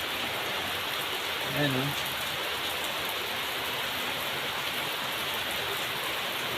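Steady rain falls throughout during the rainy season, a dense even hiss that stays constant from start to end, with a short voice breaking in briefly near the beginning.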